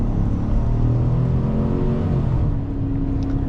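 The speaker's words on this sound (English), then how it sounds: "That exhaust note, may not be as grumbly as a Hemi." A 2026 Chevrolet Silverado truck's exhaust droning steadily while driving, a low, smooth rumble heard from inside the cab, holding an even pitch with a slight dip near the end.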